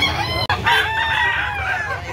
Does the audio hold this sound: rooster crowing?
yes